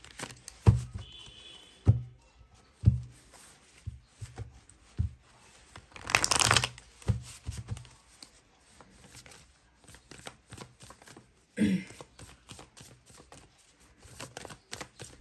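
Tarot cards are shuffled by hand in a quiet room, with a run of crisp, irregular riffling and tapping bursts, some sharp single slaps and two longer flurries of card noise.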